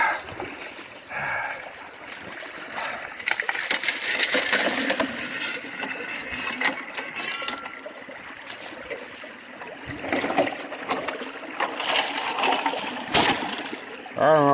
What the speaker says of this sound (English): let's see if I can't get a picture of this here sluice working in action